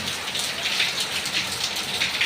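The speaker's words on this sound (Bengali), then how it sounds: "প্রচুর বৃষ্টিপাত হচ্ছে, ঘর থেকে বেরোনো যাচ্ছে না।" Heavy rain pours steadily, a dense continuous hiss of drops striking surfaces that stays loud and even throughout, with no voices.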